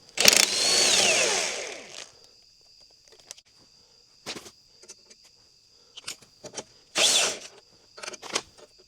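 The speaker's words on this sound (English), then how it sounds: "So I'll take the 4 U-bolt nuts off." A wrench works the U-bolt nuts off the front suspension of a 1967 Volvo 1800S, close-up bursts of rapid ratcheting clicks separated by quiet pauses, with a steady high whine running underneath.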